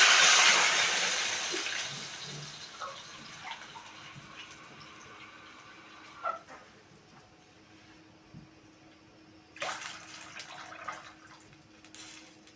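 Water gushes into a pot of lentils and rice at first, tapering off, followed by a few soft clinks and a brief later splash of water.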